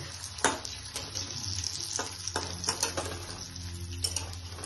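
Paneer papad cutlets frying in oil, with a soft sizzle and scattered clinks and scrapes of a utensil against the pan, fairly quiet and close with no talking.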